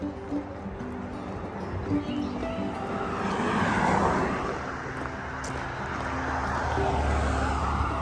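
Vehicles on a road near a river bridge pass in a continuous distant roar that swells and fades gently, heard from an Appalachian Trail path on a late-spring morning.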